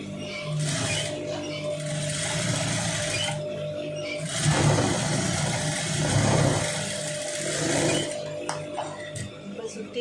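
A sewing machine stitches a long sleeve seam in bursts of rapid mechanical whirring and clatter, pausing briefly between runs, while a person talks over it.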